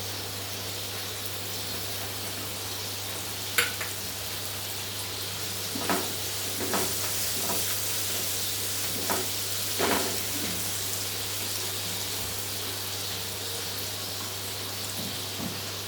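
A fodni tempering of asafoetida, green chillies and coriander sizzles in oil for upma, giving a soft, continuous frying hiss with a few louder crackles and spatters, close but fairly quiet and without speech.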